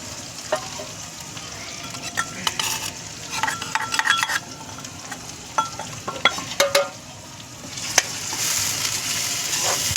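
Green chillies and dal frying and being stirred in a pan, a steady sizzle throughout with scattered scraping clinks of a spoon against the metal, close and fairly loud, no talking.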